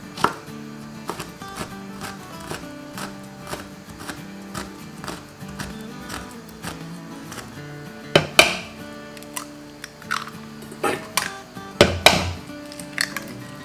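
Red chili peppers being minced with a knife on a cutting board, a rapid, irregular run of close, sharp chopping taps with louder bursts toward the end.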